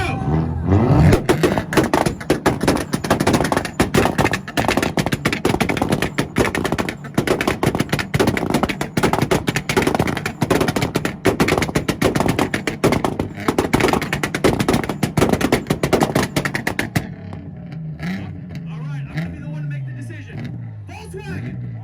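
Volkswagen and Nissan cars (VQ-engined and 300ZX) battle at a 2022 North Carolina car meet, 2-step limiters firing rapid, loud machine-gun exhaust pops and crackles over screaming revs for about seventeen seconds before the engines drop to a lower burbling idle.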